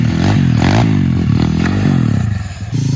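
A pit bike fitted with chair wheels rides close by, its small engine buzzing loud and steady with a rising and falling rev and a rattling clatter over it.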